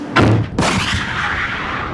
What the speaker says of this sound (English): Bar shot was designed to spin in flight, slicing through a wider area than round shot.